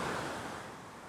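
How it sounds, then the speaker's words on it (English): Ocean waves at Haeundae Beach in Busan wash in a continuous broad rush of surf, close and steady, with some wind noise. "I can only hear the ocean."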